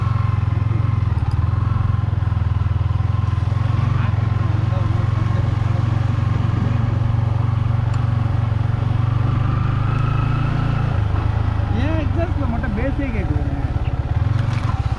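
Motorcycle ridden slowly near a forest temple outside Gingee: a steady, close engine drone for about eleven seconds, then the tone shifts as voices briefly break in over it.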